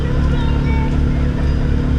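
A Chinese diesel heater runs with no exhaust silencer fitted, making a steady, loud low rumbling drone with a rough pulsing texture that continues unbroken throughout.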